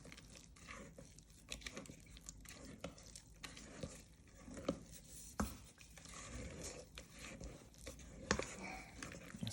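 Banana bread batter gently folded and mixed in a bowl by hand, with soft, irregular wet scrapes and squelches and occasional sharper clicks of the utensil, close and quiet.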